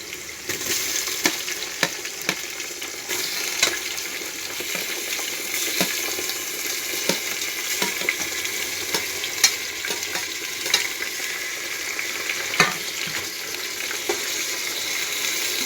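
Tomatoes sizzle and fry steadily in a pan for a vegetable bath, a continuous close hiss broken by scattered clicks and scrapes of stirring, with no talking.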